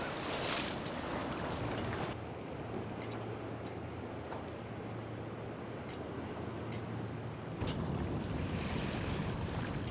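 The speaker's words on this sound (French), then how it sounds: "Là il y a toute la baie là, qui a des vagues de partout et tout." Waves across a bay heard from aboard a sailing boat, a continuous wash of water and wind noise against the hull with low engine hum, no voices.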